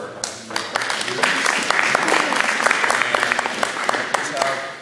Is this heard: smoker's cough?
no